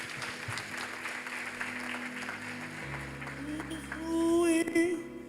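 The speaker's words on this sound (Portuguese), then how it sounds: "aplauda o Senhor bem forte aí" A church congregation applauds during worship, steady clapping mixed with sustained organ or keyboard chords that swell louder near the end, with some voices underneath.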